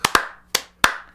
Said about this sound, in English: I never thought I'd be giving a slow clap to Dr. Oz of all people.